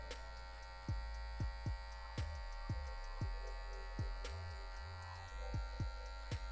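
An electric hair clipper buzzes steadily close up while trimming a fade haircut, its tip tapped against the head in repeated short strokes over a constant hum.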